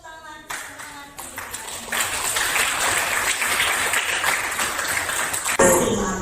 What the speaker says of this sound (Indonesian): Mari sama-sama tepuk tangan semangat